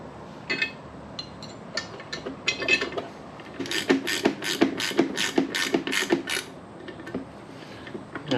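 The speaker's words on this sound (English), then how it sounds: "Same thing, two 10mm bolts and nuts. And I'm going to cinch it down" A hand ratchet clicks close by as 10mm bolts and nuts are tightened on a bracket during a Mishimoto oil cooler install on a GTO, with scattered clicks at first, then a steady run of about nine sharp strokes.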